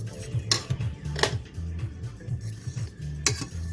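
A utensil stirs Maggi Spicy Manchurian instant noodles in a pot, clinking and scraping against the metal in repeated strokes with sharp knocks, loud and close.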